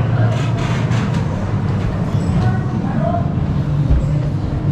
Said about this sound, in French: Les bruits du métro et tout